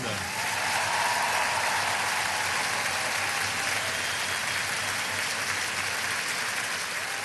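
A concert audience at the Zénith Aréna in Lille applauds a performer, a dense, sustained wash of clapping from a large crowd that holds steady at full strength the whole time.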